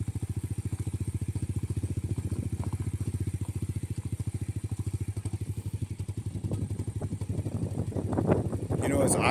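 A Honda Grom motorcycle engine fitted with a new Nibbi carburetor idles steadily up close, a fast even putter that roughens and swells near the end with some clatter.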